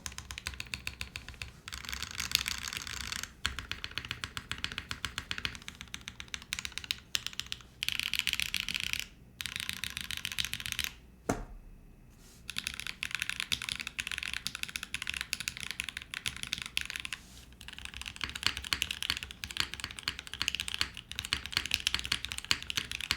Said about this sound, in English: This is extremely comfortable to type on. It's not super stiff, it's not super soft.